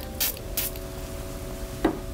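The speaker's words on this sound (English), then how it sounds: "And we're gonna spray this." Two quick hissing sprays from a cute perfume bottle, close and soft, followed a moment later by a fainter third puff against a quiet room.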